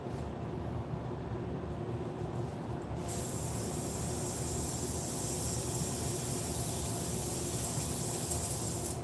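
An airbrush spraying paint gives a steady, close hiss that holds without a break, with a brief quieter stretch at the start before the full spray comes in.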